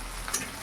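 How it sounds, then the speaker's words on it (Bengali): Onions fry in a wok with a steady, faint hiss and a couple of small ticks from stirring, with no voices. "কড়াই দিয়ে দেখি পেঁয়াজ দিয়েছে ভাজা হওয়ার জন্য"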